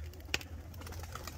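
A single brief pigeon coo stands out over a low steady rumble of background noise, fairly faint and distant.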